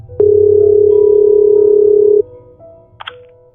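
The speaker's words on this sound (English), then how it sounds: "Then Mika picked up her phone" A telephone dial tone hums loud and steady for about two seconds after the handset is lifted, then cuts off, followed by faint clicks and a brief electronic chirp.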